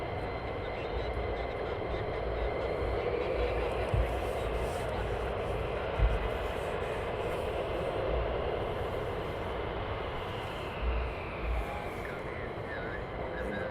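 Military jet aircraft at RAF Lakenheath, a continuous broad roar that holds steady for the whole stretch, moderately distant, with faint voices underneath.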